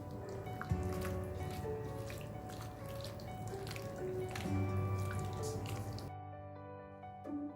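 Wet, squishy sloshing of boneless chicken pieces being mixed into a creamy malai tikka marinade by hand, close and steady for several seconds, then briefly quieter near the end.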